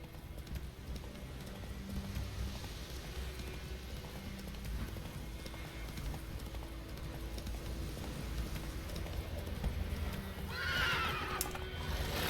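Roach, Geralt's horse in The Witcher 3: Wild Hunt, gallops with steady rhythmic hoofbeats under ambient game sound, then lets out a clear, loud whinny near the end.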